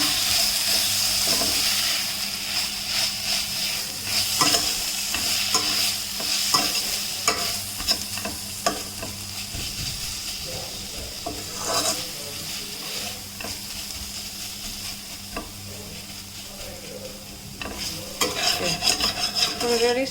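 Browned onions fry with ginger garlic paste in a single pot for millet biryani, a loud continuous sizzle and hiss with frequent spoon scrapes and clanks against the pot, close up and steady throughout, no voices.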